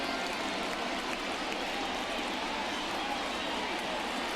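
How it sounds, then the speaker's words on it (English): A large stadium crowd at a baseball game between the Cleveland Guardians and the Oklahoma City team roars steadily after a home run, a dense, sustained wash of cheering heard from a distance. "This crowd is on fire right now. They're going nuts thanks to that home run."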